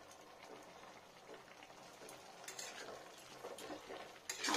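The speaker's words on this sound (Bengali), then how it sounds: "ভালো করে উলট পালট করে দিই, লবণ জল সব মিশে যাক।" Bathua greens being stirred and turned with salt water in a pan, soft wet sizzling and scraping strokes that grow louder toward the end, faint and close.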